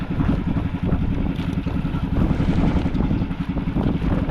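Strong wind roars over open water, buffeting the microphone with a loud, continuous low rush.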